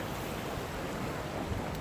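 A river running high after rain rushes with a dense, constant roar of flowing water close by, mixed with some wind buffeting and no talk.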